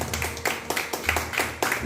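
A church congregation at a Christian baptism service claps in a loose, irregular rhythm, a few bursts of handclaps close by at moderate level.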